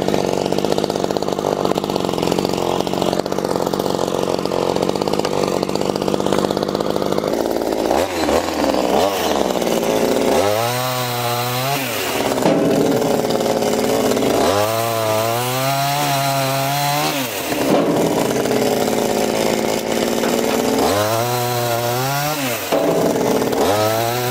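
Chainsaw cutting wood above the bucket of a Jansen RD300 mini dumper, a loud steady engine drone running throughout, with repeated revving surges as it bites into the log, close by with no talk.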